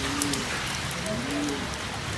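Heavy rain falls steadily as a constant close hiss, with faint bird calls in the background.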